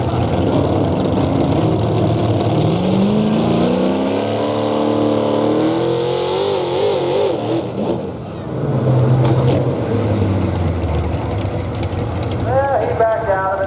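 A modified Chevrolet 4x4 pulling truck revs hard on a clay track, its loud engine surging and sweeping up and down in pitch, dipping briefly midway before roaring again, with an announcer talking over it.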